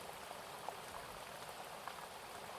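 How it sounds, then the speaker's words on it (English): Raindrops falling onto leaves in a forest, a dense continuous patter of fine drips with a few brighter individual drops, soft and fairly faint, no voices. "Sounds of the raindrops leaping from one leaf to another"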